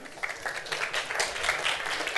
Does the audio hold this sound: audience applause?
yes